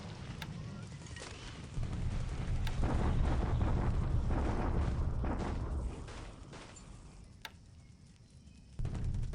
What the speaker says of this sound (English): Okay, bombardment here.